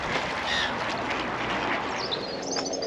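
Ducks quack on the Norfolk Broads, a few calls standing out over a steady outdoor wash of wind or water noise, moderately close, with no talking.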